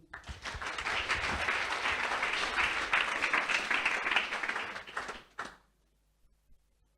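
A church congregation breaks into loud, sustained applause with scattered cheers, a dense wash of clapping for about five seconds before cutting off abruptly into near silence.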